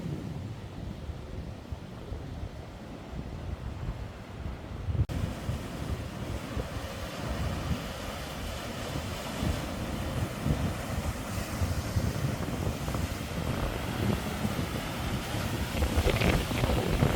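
Waves break along a rocky East Sea shoreline near the lighthouse at Hajodae, Yangyang, as a continuous roar of surf and gusting wind buffets the microphone, growing rougher after the first few seconds with no voices.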